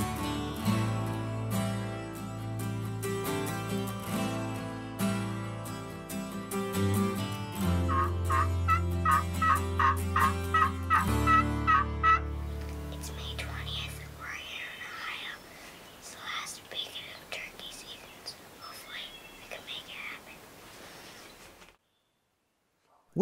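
Wild turkeys gobble on the opening day of turkey season during a hunt over decoys. Loud rhythmic gobbling bursts alternate with musical tones early on, then softer rustling and low whispering follow before a sudden cutoff.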